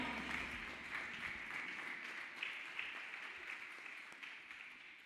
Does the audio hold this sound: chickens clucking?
no